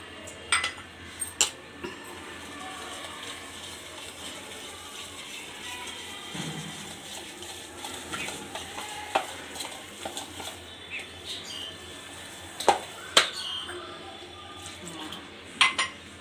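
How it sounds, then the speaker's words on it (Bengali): A spoon scrapes and clinks against a bowl while rice-flour batter spiced with turmeric, black cumin and poppy seeds is stirred, with sharp taps scattered over a soft continuous mixing noise and occasional talk. "এবার আমি একটা ব্যাটার তৈরি করে নিব।"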